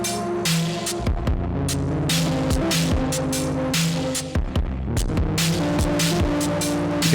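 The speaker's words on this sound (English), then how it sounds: "You get this really nice saturated overdriven sound." An OP-1 Field synthesizer played through an OBNE Pardner Fuzz pedal gives a thick, saturated, overdriven tone, with sustained buzzing notes that shift pitch in a steady stream, loud and close, with no talking.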